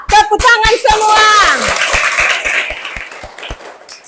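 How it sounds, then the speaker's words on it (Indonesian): A class of fourth-grade primary school children claps hands in an Indonesian classroom, a steady rhythmic beat of sharp claps at first mixed with voices chanting, then continuing alone as evenly spaced claps that gradually soften. "Tepuk tangan semua."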